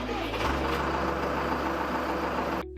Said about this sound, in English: then crank the engine.